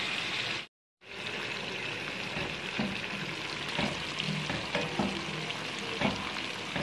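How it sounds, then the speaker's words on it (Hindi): Fish lightly frying in oil, giving a continuous close sizzle with soft crackles and small stirring knocks, broken by a brief dropout near the start. "हम हल्के से इसको फ्राई करेंगे"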